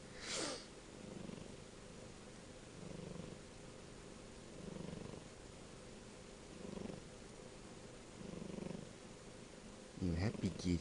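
A kitten purrs softly and steadily at close range, a low rumbling drone running throughout while someone speaks gently to it in short phrases, with a brief rustle near the end.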